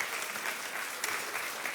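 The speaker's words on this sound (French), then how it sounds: "Vous pouvez applaudir." A crowd claps steadily and fairly loudly throughout, a dense wash of applause with no pauses.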